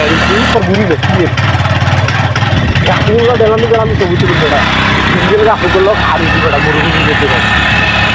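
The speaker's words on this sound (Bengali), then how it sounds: "আমরা এখন বাইক ট্রিপে" Motorcycle engine on a morning bike trip to Nijhum Dwip island, running loud and steady with a rough idle-like rumble throughout, while people talk over it.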